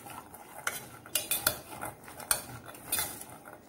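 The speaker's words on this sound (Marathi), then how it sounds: "छान मिक्स करून घ्यायचं आहे।" Spoon scraping and clinking against a bowl while chana chaat is mixed with lemon juice and salt, in irregular bursts of light clatter, close and fairly quiet, with no talking.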